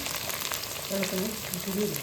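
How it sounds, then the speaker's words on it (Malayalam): Green chillies fry with ginger and garlic in hot oil in an old pan over thirty years old, giving a steady close sizzle with faint tonal scraping from stirring throughout. "പച്ചമുളക് ഇട്ടു."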